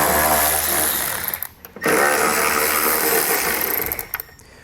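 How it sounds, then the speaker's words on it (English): A power tool driving an 8mm socket to back out the bolts holding a driver's-side tail light, a loud continuous whir with a brief drop near the middle before running again, no talking. "this is going to be an 8mm socket to get these bolts out"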